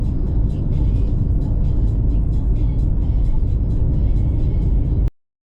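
A 2001 Peugeot Boxer van on a road in Lowestoft, its engine giving a steady low rumble and road roar that holds close and constant, then cuts off abruptly near the end.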